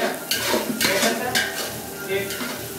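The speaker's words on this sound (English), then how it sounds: "At this point, it's kind of smelling like some good Mexican sauteed onions right" Onions sautéing in oil in a pan for a curry, a steady close sizzle with stirring scrapes and light utensil clatter running throughout, no talking.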